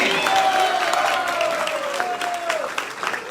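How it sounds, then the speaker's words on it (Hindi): Audience applause at a kirtan gathering in Indore, a steady patter of clapping continuing under a sustained sung or spoken tone throughout. "जीकेडी हो हमारे बीच तो जोरदार ताली भी चाहिए।"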